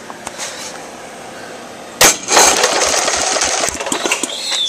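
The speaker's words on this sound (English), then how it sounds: "It's a pretty quiet starter." A Briggs engine converted to electric start gives a quiet starter whir followed by the engine catching and running steadily, a close, buzzy mechanical drone after a sudden onset.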